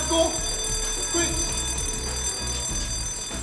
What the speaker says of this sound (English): Here's what you should do when you hear a fire alarm.